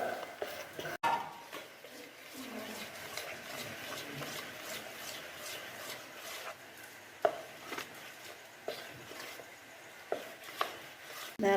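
Cooked Ponni rice porridge is mixed by hand into ground rice batter for soft vellayappam, giving soft repeated scrapes and taps against the bowl at a quiet, steady pace.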